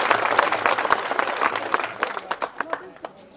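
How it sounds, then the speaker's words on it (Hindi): An audience at a statue unveiling ceremony claps loudly to welcome the chairman of the gathering, a dense burst that thins into scattered, separate claps toward the end, with voices underneath. "आप जोर से ताली बजा के इनका स्वागत करें"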